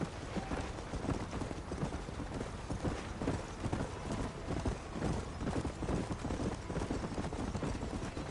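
Horse hooves clip-clop at a steady trot in Red Dead Redemption, a rhythmic, fairly close patter that runs throughout over a faint background.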